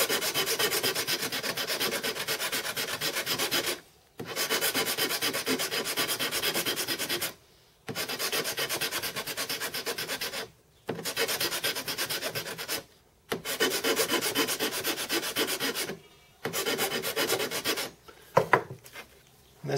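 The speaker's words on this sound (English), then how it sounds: "I found filing away seems to be a better way to do the job." Hard plastic propeller hub filed flat by hand, five long bursts of steady rasping separated by brief pauses, close and fairly quiet.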